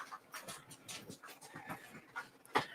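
Dogs panting in quick breathy bursts with an occasional soft whimper, fairly faint and close, heard in a home kitchen.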